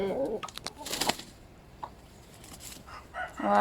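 Coucou de Malines turkey-head chickens in a henhouse being integrated with new birds: scattered clucks and short squawks, with a brief crowing burst near the start, close and uneven.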